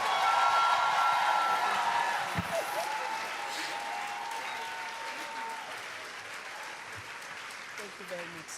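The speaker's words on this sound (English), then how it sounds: "Round of applause" Audience applause at a women's conference men's panel session, a broad wash of clapping that is loudest at the start and then thins and fades steadily across the stretch, with some voices mixed in.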